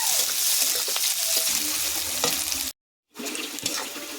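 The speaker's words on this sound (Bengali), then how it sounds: "তেল দেব, পেঁয়াজ দেব, কাঁচা লঙ্কাটা দিয়ে দেবো।" Onions and green chillies fry in hot oil for a fish curry, giving a steady close sizzle with a few stirring scrapes, cut by a brief silent gap before the frying resumes.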